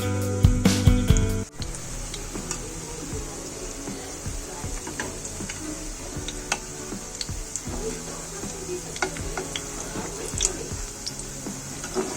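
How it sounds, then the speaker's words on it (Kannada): Shallow frying in a pan over a low-medium flame gives a steady, quiet crackle of small pops and ticks. It runs continuously after a brief louder clatter at the start. "ಇದು ಶಾಲೋ ಫ್ರೈ ಮಾಡಬೇಕಾದ್ರೆ ಲೋ ಟು ಮೀಡಿಯಮ್ ಫ್ಲೇಮ್ ಇಟ್ಕೊಂಡು ಮಾಡಬೇಕಾಗುತ್ತೆ"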